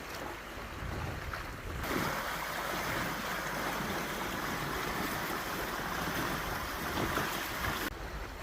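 Sailboat heading across Lake Superior in about eight knots of wind at roughly five knots, water rushing along the hull with steady wind noise, a continuous broadband wash with no voices.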